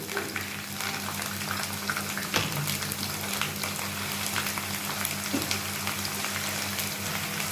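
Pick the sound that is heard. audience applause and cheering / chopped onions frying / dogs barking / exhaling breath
chopped onions frying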